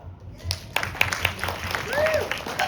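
Light, scattered applause from a comedy night audience at a synagogue, with a few sharp claps and murmurs amid some talking and whistle-like tones, moderately close.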